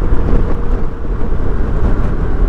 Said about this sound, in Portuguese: Está muito vento, até se sente o vento a prender a moto